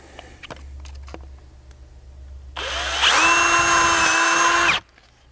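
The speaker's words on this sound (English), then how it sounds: "drill all the way through it like so" A power drill bores a pilot hole through a plastic MOLLE panel inside a Toyota Sequoia, a loud steady whine that spins up, holds for about two seconds, then cuts off abruptly after a few light handling clicks.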